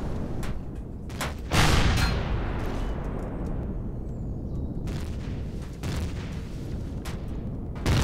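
Gunfire in the Empyrion video game is aimed at a turret while enemy fire is returned, producing sharp repeated shots and a heavy boom with a long rumbling tail, loud and close.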